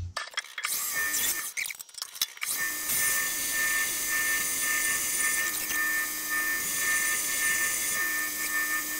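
A PM 1440TL lathe drilling a hole in a hub at 380 RPM without coolant, a steady loud motor whine with a high tonal hum after some initial clattering and handling at the start.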